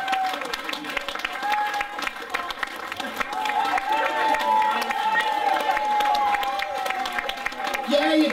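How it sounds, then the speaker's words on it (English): Audience at a small acoustic folk festival breaks into sustained applause and cheering, dense clapping and crowd noise holding steady throughout, with scattered shouts and a voice over the crowd. "give them a massive round of applause"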